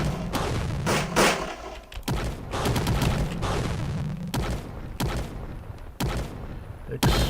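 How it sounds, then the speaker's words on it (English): Dense video game gunfire with many guns shooting at once, including anti-tank guns, in loud overlapping volleys and heavy thumps that repeat every second or so. "everybody shoots at the same time"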